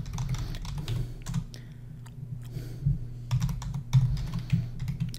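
Someone types on a computer keyboard in bursts of quick, close key clicks with short pauses, over a low steady background hum.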